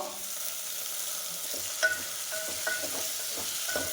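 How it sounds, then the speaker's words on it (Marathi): Sliced onion fries in a pan for soybean khichdi, giving a steady sizzle with occasional clicks and scrapes of stirring, fairly close and without talk. "हे छानपैकी कांदा आपला फ्राय होऊ द्यायचा आहे प्रथम"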